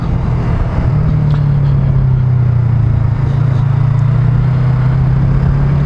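Yamaha R25 motorcycle (2020) engine running steadily while riding, a loud continuous low drone with a sustained pitch and slight rise around the middle, mixed with wind and road rumble throughout.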